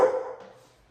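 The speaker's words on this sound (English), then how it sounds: "What are you barking at?" A single dog bark sounds close and fairly loud, then fades over about a second in an indoor room, with no talk over it.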